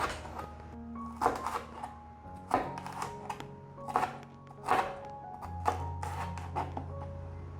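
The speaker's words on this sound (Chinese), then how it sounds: "把红甜椒切成条状。" Red bell pepper being cut into strips with a knife on a board, a series of crisp, close chopping thunks in an uneven rhythm, with no voices.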